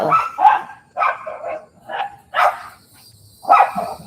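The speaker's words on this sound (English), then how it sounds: "She's barking at the birds." A dog barks in a series of sharp, close barks with short pauses between them, about five or six in all.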